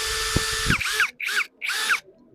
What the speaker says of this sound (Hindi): और फिर ये ड्रिल्स हैं,